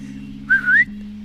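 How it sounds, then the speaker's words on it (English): A single short, rising whistle from a person calling a dog on a walk in the Maleny hinterland mountains on the Sunshine Coast. It rings out clearly over a steady low hum, with no voices. "Oh, that was a pretty piss poor whistle."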